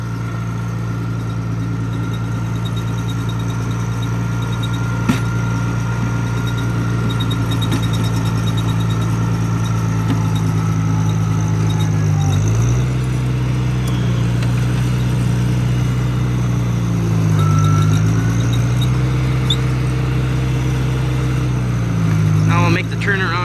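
A Cub LoBoy tractor engine runs steadily in second gear while working on a farm, a loud close low drone with pitch rising and falling as the load changes, and a person talking over it.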